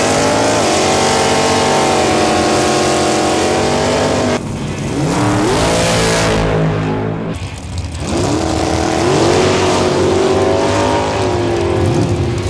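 Mopar drag racing cars roar and rev hard at close range at the Mopar Nationals, engines climbing in pitch through gear changes as they accelerate and blast past, very loud.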